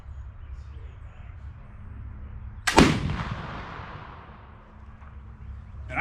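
A single sharp rifle shot cracks out at an outdoor shooting range, loud and close, its report decaying over about a second against steady low background rumble.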